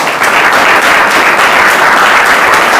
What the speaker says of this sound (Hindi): जोरदार ताली बजाए प्रभु की।